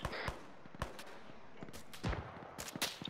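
Gunfire in the military shooter Arma 3 during a desert campaign mission, scattered single shots and short bursts at varying distances, some near and sharp, others distant.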